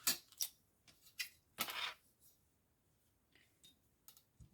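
A utility knife slices through the corner of a cardboard crate, several short close scratchy cuts and scrapes in an uneven rhythm, with quieter pauses between strokes and no talk.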